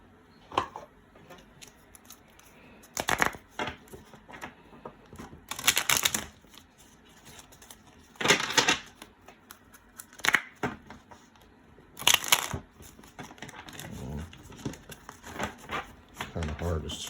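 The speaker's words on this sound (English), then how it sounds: "Kind of hard to shuffle these cards with these rubbers on the end." Tarot cards with rubber bands on the ends are shuffled in several separate bursts of riffling and slapping, each a second or so long, separated by pauses, while a person talks quietly between them.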